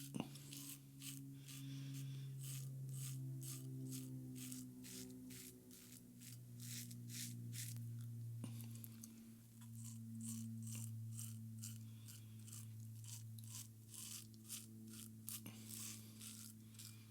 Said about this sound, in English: I'll rock it in till it bites, till it starts to cut, and then I'll start to shave.